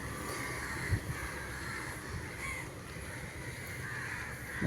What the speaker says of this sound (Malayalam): ഈ കാക്കയുടെ പരിപാടി ഭയങ്കര സംഭവം